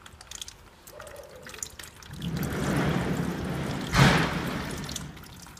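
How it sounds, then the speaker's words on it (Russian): Dirty transmission oil drains from the automatic gearbox of a 2011 Range Rover Evoque 2.2, starting after a few light metallic clicks and turning into a steady close pouring rush with a brief surge midway. "Вот как видно, масло грязное бежит."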